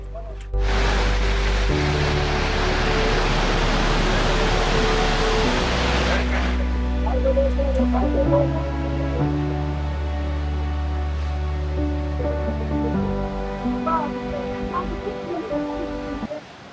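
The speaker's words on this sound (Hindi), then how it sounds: "इसे ऐसी वजह से नायग्रा वाटरफॉल से कंपेयर किया जाता है कि ये बहुत हैवी वाटरफॉल है भाई" Jog Falls, a heavy waterfall in Karnataka, sends out a loud, dense roar for the first several seconds before music takes over the sound.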